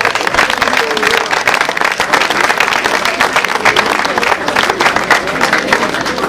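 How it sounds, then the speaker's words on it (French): Roadside crowd applauding the Guidon Chalettois cycling team at a race, loud continuous clapping with a few voices mixed in throughout. "Applaudissements pour le guidon chalétois."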